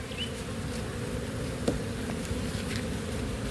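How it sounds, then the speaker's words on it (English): A dense, steady swarm of honeybees buzzing continuously around a hive during an inspection, close and loud, with a few brief clicks over the drone. "How many bees are flying around here right now?"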